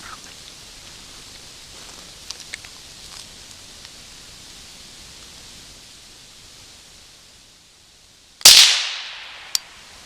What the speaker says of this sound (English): Shot right over his head.